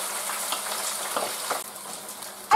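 Onion and potato hit hot oil together for a Spanish potato tortilla, giving a steady close broadband sizzle with soft scraping stirs, ending on a sharp clatter.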